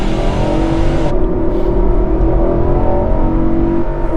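The V8 engine of a 2021 Nissan Armada Platinum SUV growls and revs hard as it accelerates from a brake-torque launch, loud and close, the roar rising steadily.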